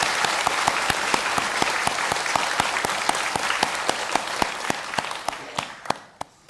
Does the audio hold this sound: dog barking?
no